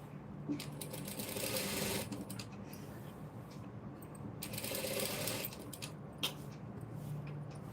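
A sewing machine stitches a lined blouse with piping in two sustained runs of fast needle rattle, pausing briefly between them, close and steady with light handling clicks.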